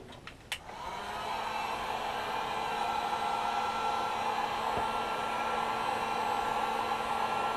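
Heat gun or hair dryer blowing on a hat crown to soften it, starting with a few clicks and then settling into a steady, close, even airflow roar that runs uninterrupted with no one talking.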